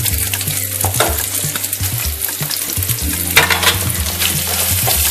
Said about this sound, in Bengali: এবার এক এক করে সবজিগুলো ফ্রাই করে নেব। প্রথমে পেঁয়াজ দিলাম,